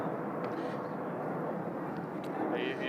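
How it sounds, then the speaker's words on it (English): A fixed-wing airplane passes overhead outdoors, making a steady broadband roar that fills the whole stretch at moderate distance. Voices speak faintly beneath it. "Sorry, you're competing with the plane."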